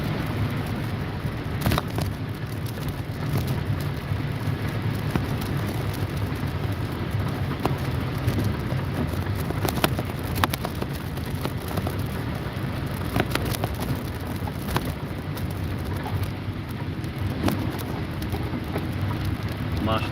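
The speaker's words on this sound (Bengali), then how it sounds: "ফিরে ফিরে বৃষ্টি পড়ছে" Steady rain pours down in the city of Hail, a dense continuous hiss with scattered sharper drops and faint distant rumble, unbroken throughout.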